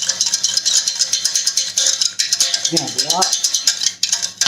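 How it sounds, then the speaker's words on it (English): Whisking milk into a thick cheese sauce in a pan off the heat, a fast rhythmic metallic rattle and scraping of the whisk against the pan, loud and close, with a voice speaking briefly over it. "Again, you can see I've kept it off the heat, giving it a whisk."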